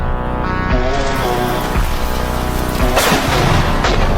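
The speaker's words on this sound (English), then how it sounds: "You're not going to believe the last lightning." Thunder from a lightning strike rumbles and cracks through steady rainfall, loud and close, with a sharper burst near the end of the rolling boom.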